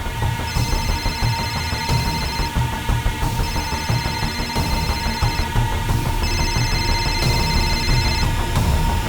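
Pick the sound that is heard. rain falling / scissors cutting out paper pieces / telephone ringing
telephone ringing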